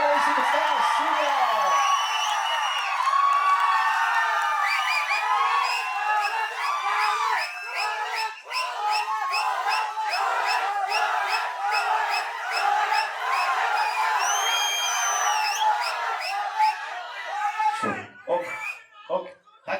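A large crowd at a Kanguva film event in Bengaluru screams and cheers to welcome actor Suriya. The shrill whoops and shouts are loud and sustained for about twenty seconds, with a few thuds near the end.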